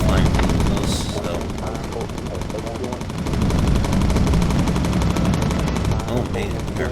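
A bomber's top gunner fires a machine gun in the Bomber Crew video game, a loud, continuous rattling burst lasting the whole stretch over a dense roar of aircraft and flak.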